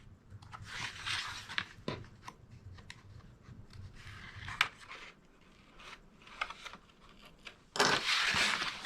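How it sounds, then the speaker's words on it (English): Quiet, close snipping of scissors through paper in short irregular bursts, with small handling rustles between cuts and a louder rustle near the end. "And now I'll take my scissors."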